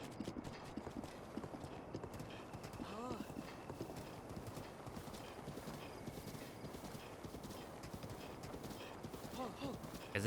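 Rapid clip-clop of horse hooves in a video game runs steadily throughout, with a brief whinny and faint voices mixed in under the hoofbeats.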